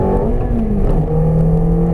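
A Ferrari F430 accelerates on a race circuit, its engine note climbing loud and close in a rising, smooth wail that dips briefly and then pulls higher again, with no talk over it.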